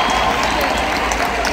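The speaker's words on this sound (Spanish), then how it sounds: "Un aplauso fuerte a este hombre" A concert crowd in Cali roars and claps for a salsa singer, a loud, dense wash of applause and cheering filling the venue over a brief stretch.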